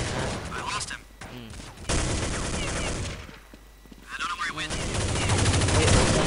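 Kriss SV gunfire in a Counter-Strike mod of Point Blank: loud, close bursts of rapid shots, broken by short pauses and then resuming as sustained fire.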